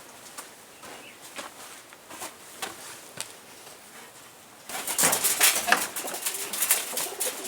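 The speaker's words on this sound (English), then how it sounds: "So I want now to take it to my birds." Pigeons coo around a homemade automatic bird feeder made from a 20-litre water bottle, soft calls scattered at moderate distance, growing louder and busier in the final seconds alongside light fluttering and shuffling.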